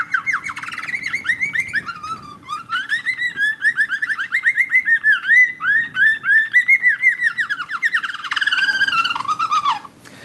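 A young bird's song is played back as a recording: a continuous run of rapid, rhythmic chirps and whistled syllables, clear and close, rising into a denser warbling flourish near the end, with no talking.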